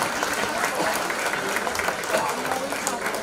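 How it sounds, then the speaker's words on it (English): An audience claps loudly and steadily at a literacy community event, the applause dense and continuous throughout. "Please give them a big round of applause."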